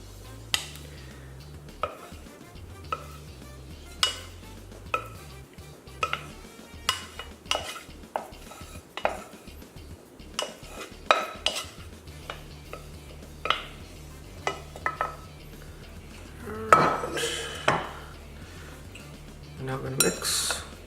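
Hot rice being mixed with vegetables in a pan, with repeated scraping and clinking of a utensil against metal and a faint sizzle underneath, while someone talks intermittently.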